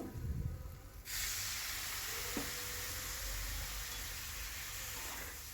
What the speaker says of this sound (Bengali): এটা লাল করে ভেজে নেবো সবজিটা